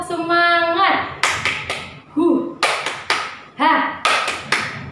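Children in a classroom clap out a rhythmic cheer during a fourth-grade social studies lesson, with loud sharp claps in patterned groups between sung or chanted voices.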